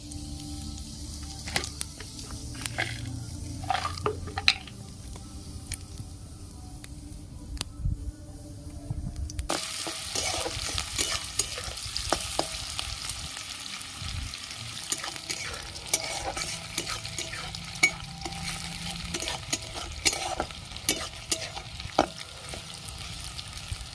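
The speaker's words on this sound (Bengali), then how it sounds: "কড়াইয়ের তেল গরম হয়ে গেছে আমি একটা শুকনো লঙ্কা জিরে ফোড়ন দিয়ে দিচ্ছি" Dried red chilli and cumin seeds dropped into hot oil in a wok, crackling and spitting close up with scattered pops, then settling into a brighter, denser, continuous sizzle partway through.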